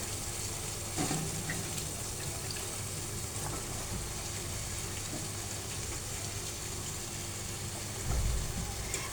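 Taro stolons hit a pan of frying spice paste, giving a steady, moderately quiet sizzle and hiss that continues evenly, with a slight rise in noise near the end.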